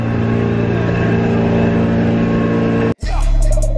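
A security car's engine droning loud and close with a steady tonal hum, broken by a sudden cut and a rougher burst as it carries on past.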